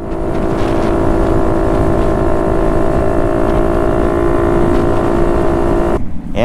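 A motorcycle engine runs with a loud, steady droning hum and a constant low rumble that holds without a break, then cuts away abruptly near the end.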